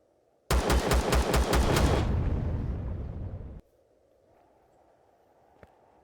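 Heavy automatic gunfire in Empyrion Galactic Survival pounds a tank in a loud, rapid burst of about three seconds, then cuts off abruptly to quiet ambience with one faint click.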